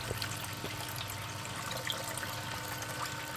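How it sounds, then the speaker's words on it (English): Water drains down a funnel into a small dish during a gold prospecting bucket test, a steady close trickle and gurgle with no talk. "It's draining. Going right down the funnel."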